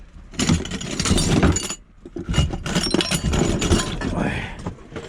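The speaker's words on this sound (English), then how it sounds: "Oh, broken glass is not good." Pieces of broken glass clink and rattle while being handled among discarded items from a shed or garage, in two bursts of jangling, crunching contact close by, with a person talking between them.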